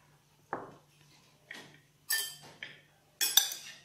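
Fig salad with shrimp, pork and sauce being tossed in a bowl, heard as a few quiet, separate clinks and scrapes of utensils against the dish, spaced about a second apart in a near-silent kitchen.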